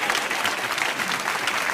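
Studio audience at a late-night comedy show applauding a joke, a dense, steady wash of clapping that holds at full strength for nearly two seconds with no talk over it.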